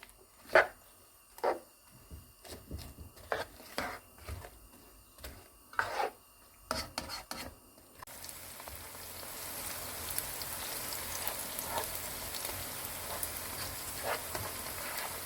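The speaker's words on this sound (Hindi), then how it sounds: "प्याज को अब हम स्टर फ्राई करेंगे जब तक कि ये गोल्डन लाइट ब्राउनिश हो जाए।" Chopped onions stir-fried in a pan until golden light brown for a cauliflower and meat curry: a few scattered clinks and stirring knocks at first, then a steady, close sizzle that fills the rest, with no talking.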